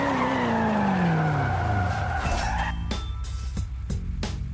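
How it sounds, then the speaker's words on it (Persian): A BMW M3 GTR brakes hard from about 284 km/h top speed, its tires skidding in a long descending squeal that fades under loud engine and road roar, followed by several sharp clicks or gear thumps. "اینجا میزنیم ترمز"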